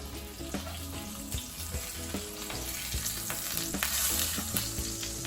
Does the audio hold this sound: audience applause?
no